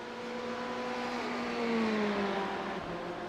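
Racing car engines whine steadily at Monza in a sim racing game, with a sustained high tonal drone that slides down in pitch as a car brakes toward the Parabolica, a BMW among the pack.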